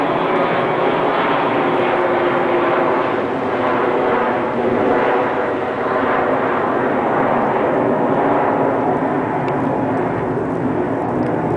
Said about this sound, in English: Let me wait for this plane to go over again.